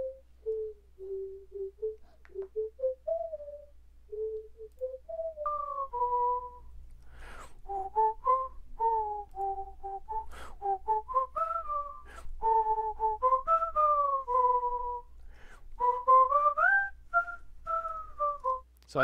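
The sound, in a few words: whistle pitched down one or two octaves as synth texture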